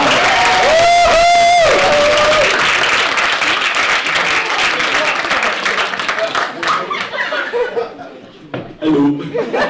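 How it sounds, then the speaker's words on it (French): A theatre crowd greets a comedian taking the stage at a comedy show with loud, sustained applause, cheers and some laughter, thinning out toward the end as the comedian starts to speak. "on peut déjà commencer à l'applaudir bien fort"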